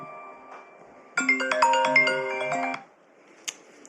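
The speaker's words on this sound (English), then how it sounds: "Should have put my phone on silent." A mobile phone ringtone plays a bright, layered melodic chime for about a second and a half in a quiet kitchen, loud and close, then cuts off, followed by a brief faint ding.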